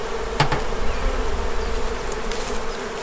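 A dense, steady hum of many honeybees buzzing close by at an open hive being smoked, continuous and even, with a couple of faint clicks in the background.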